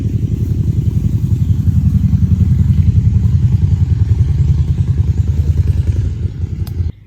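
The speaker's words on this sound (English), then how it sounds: "we had a loud vehicle come by" A loud engined vehicle rumbles past close by with a rapid, pulsing clatter that holds steady for several seconds, then cuts off abruptly near the end; no one speaks.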